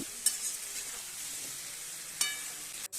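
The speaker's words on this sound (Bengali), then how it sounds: "ততক্ষণ আমি তরকারিগুলোকে ভেজে নিচ্ছি।" Vegetables fry in a pan with a soft, steady sizzle, broken by a few stirring scrapes and clinks, heard close and fairly quiet with no voices.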